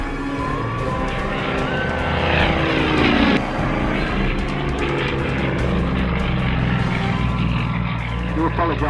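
A propeller aerobatic aeroplane flies inverted at the Tatenhill air show. Its loud engine drone sweeps past overhead, the pitch dropping sharply as it goes by, with a faint voice underneath.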